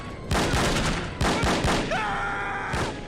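Several bursts of gunfire from No One Lives Forever, loud and close, in three clusters with short pauses between, the last stretch overlaid with a steady electronic tone.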